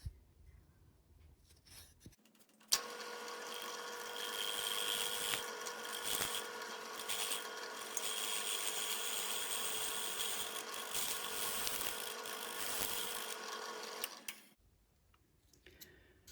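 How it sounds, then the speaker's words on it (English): A drill press bores out a hole in a wooden Christmas star piece, running as a steady whine for about twelve seconds with a sharp start and stop, alone without talk. "I'm just gonna drill this out with the drill press"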